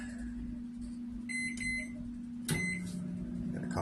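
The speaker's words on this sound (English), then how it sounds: "we're going to start the microwave up" A microwave oven started up for a one-minute run, with a steady low hum, a few electronic beeps on button presses, then a louder clunk as the magnetron kicks in and the drone rises.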